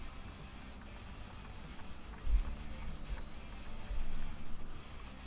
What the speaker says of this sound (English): After the filing, I usually go at it with some 120 grit sandpaper on this.